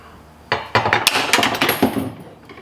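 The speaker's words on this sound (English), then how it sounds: "So I'm going to take our metal clothes hanger, cut it off." A metal wire clothes hanger being cut, giving a run of sharp metallic snips and clinks close by, with several quick impacts and rattles over a couple of seconds before it falls quiet.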